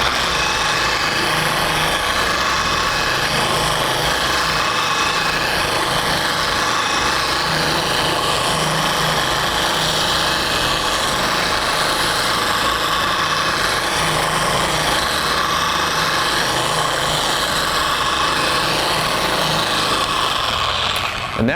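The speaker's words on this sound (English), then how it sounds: "And that's how you machine apply a wax or a paint sealant." A Flex 3401 polisher machine-applying wax to car paint gives a steady, loud whirring hum with a rubbing hiss, unbroken for the full stretch, with no voices.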